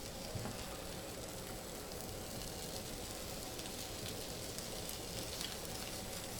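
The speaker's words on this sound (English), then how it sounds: "it's starting to sizzle" A steady, quiet crackling sizzle of keto chicharron bread frying in a pan on high heat, continuous throughout with faint pops and no talking.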